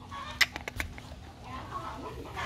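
Hens clucking at a rural Vietnamese farmyard as six hens are picked for a braised chicken meal: a few short, sharp clucks close by near the start, then a quieter stretch of low background noise.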